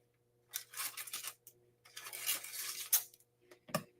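Scissors snip off a botched piece of craft material, a few short crisp cutting bursts with small rustles and a metallic clink near the end, close and fairly quiet.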